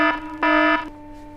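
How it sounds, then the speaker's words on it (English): An electronic alarm sounds in short harsh buzzing bursts, two loud tones separated by a brief gap, with a ringing hum lingering afterward. "your observation is that the school fire alarm is going off."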